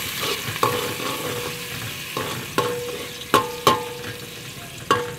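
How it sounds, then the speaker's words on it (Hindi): Onions frying in hot oil for a okra (bhindi) dish give a constant, moderate sizzle, broken by several distinct clanks of a stirring spoon against the pan, some in quick pairs. "इसमें प्याज डाल देते हैं। प्याज फ्राई हो जाएंगे"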